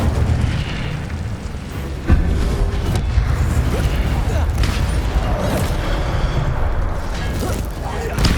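An Incendio fire spell is cast in Hogwarts Legacy, a loud burst of roaring, crackling flame with booming impacts, under continuous game sound with speech present.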